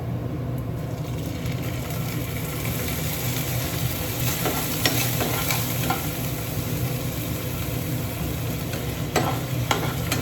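Jackfruit seed masala frying and sizzling in a pan while a little water is added, with a continuous hiss, an occasional scrape of a spoon stirring and a low background hum, and no voices.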